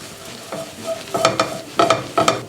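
Savoy cabbage with coriander and a pinch of salt is stirred in a hot pan. Scraping stirs come in short bursts over a faint sizzle, close and distinct, with no talking.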